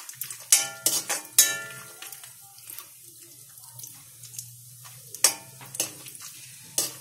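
A few cashews frying lightly in hot ghee for carrot halwa, a soft sizzle under sharp intermittent scrapes and clinks of a spoon stirring in the pan, close and fairly quiet.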